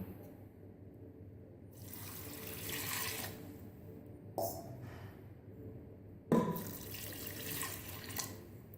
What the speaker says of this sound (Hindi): अब मैं इसके अंदर 2 गिलास पानी डालूंगी।